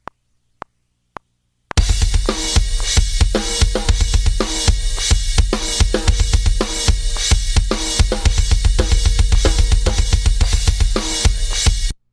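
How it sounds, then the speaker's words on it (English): A stoner metal drum track starts after four sharp count-in clicks. It then pounds loudly and steadily with driving kick and snare hits and dense cymbal wash, with no vocals. "The drum track kind of sounds like this."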